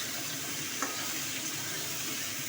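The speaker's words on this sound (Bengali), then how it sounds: "হালকা করে একটু ভেজে নেব আমি" Soybean curry with turmeric fries lightly in a pan, giving a steady, soft, even sizzle with a faint click partway through and no voices.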